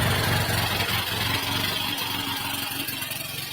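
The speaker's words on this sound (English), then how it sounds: "that idle's way too high" An engine idles too high just after starting, giving a dense, steady, loud drone with a low throbbing pulse that eases slightly over a few seconds, no voices.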